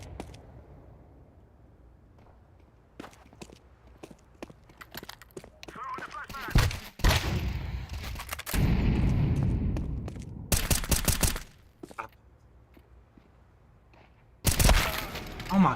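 Bursts of gunfire in a CS:GO match come in loud clusters, with a long roaring stretch, separate cracks, and a final heavy volley, mixed with game effects and some talk.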